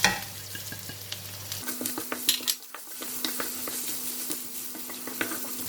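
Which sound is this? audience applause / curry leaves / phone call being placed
curry leaves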